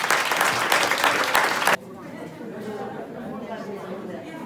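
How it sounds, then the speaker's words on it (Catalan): Strong audience applause at a centenary celebration, loud clapping for nearly two seconds that stops abruptly before room murmur and chatter. "Rebem amb un fort aplaudiment el grup de Càritas Puig-reig"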